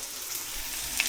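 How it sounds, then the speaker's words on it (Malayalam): Onions fry in a pan for biryani, giving a close, steady, hissing sizzle that carries evenly through the whole short moment with no voices over it. "സവോള വറുത്തോണ്ടിരിക്കുന്നു."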